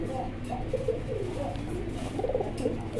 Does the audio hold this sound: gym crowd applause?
no